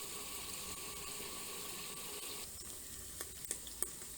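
Small omena fish fry slowly in a pan over low heat, a steady soft sizzle running throughout, with a few light clicks of stirring near the end.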